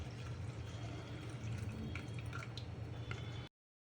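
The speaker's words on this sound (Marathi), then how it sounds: "आपण पुदिन्याचं सरबत ओतून घेणार आहोत" Mint sherbet being poured into a glass, part of a summer watermelon and mint drink made with cold water from a clay pot; a steady close liquid pour with faint splashing runs for about three and a half seconds, then stops.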